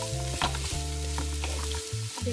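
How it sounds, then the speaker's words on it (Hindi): Vegetables for vegetable egg fried rice stir-fry with a steady sizzle, punctuated by repeated spatula scrapes and knocks against the pan, over a low droning hum. "जितनी इसको हल्की हल्की सी बस फ्राई करना है"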